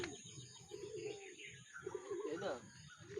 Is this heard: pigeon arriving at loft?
yes